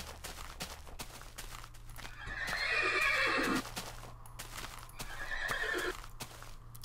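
A horse in the video game Minecraft whinnies twice in long, wavering neighs over a steady low game hum, with faint hoof clip-clops and clicks throughout.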